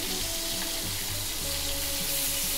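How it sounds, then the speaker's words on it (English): Food sears in a hot pan with a steady broadband sizzle running throughout, close and fairly loud, with a faint tonal hum and low clatter underneath. "Let that sear get on the other side"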